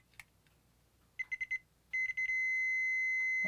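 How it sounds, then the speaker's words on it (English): A multimeter set for continuity gives short electronic beeps while a fuse in a PlayStation is tested, a few quick chirps and then a steady continuous tone, close and clear with no talking. "If it is good, the meter should beep"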